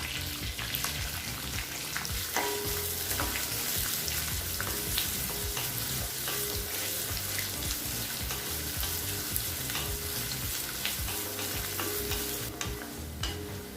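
A large sliced onion with curry leaves sizzling and frying in a pan with steady crackling, occasional stirring noises, close and continuous throughout.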